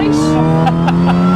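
A supercharged Mini Cooper S R53 on the road gives a loud, steady high-pitched supercharger whine over a constant engine drone, with faint cabin sounds.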